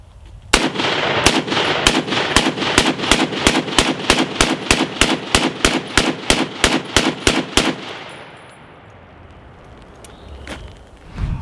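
An Ohio Ordnance Works BAR 1918A3 rifle fires a long steady string of about twenty loud, evenly spaced shots on an outdoor range, then the firing stops and the echo fades into quiet.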